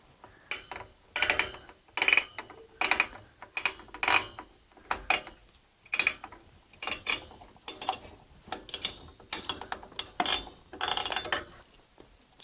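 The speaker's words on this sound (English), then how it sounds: "Then let's go get a screwdriver. Okay, so now let's take out first our fan." A screwdriver backs out the screws holding a CPU cooler fan on a B350/X370 motherboard with a Ryzen 5 2400G. Close, repeated ratcheting clicks and scraping come in short bursts with brief pauses, and nobody speaks.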